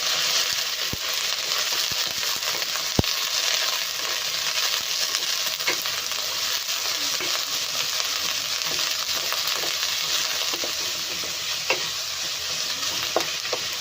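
Cabbage sizzles steadily in a hot pan for noodles, a continuous frying hiss with occasional sharp clinks and scrapes of a stirring spoon, close and fairly loud, with no voices.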